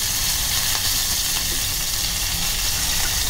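Curry leaves and cumin seeds crackle in hot oil in a pan, a steady, loud, dense sizzle throughout with no talking.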